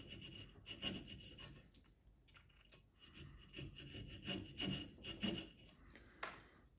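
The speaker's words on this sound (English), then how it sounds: "I'm going to cut this section off, go in to meet where the bill meets the cheek" Hand saw cutting wood off a small carved bufflehead duck decoy head, quiet close rubbing strokes in short uneven bursts with brief pauses between them.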